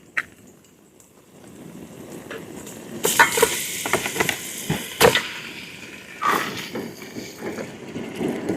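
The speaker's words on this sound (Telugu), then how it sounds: "చికెన్ అయితే మంచిగా ఫ్రై అయిందండి" Marinated chicken sizzles as it fries in a pot for biryani at a hilltop campsite, a soft, steady crackle broken by sharp scrapes and clatters of stirring, close and alone.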